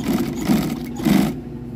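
Double-needle sewing machine running a double stitch through a custom bench seat for a C10 truck, a steady close mechanical whir with slight surges, no talking.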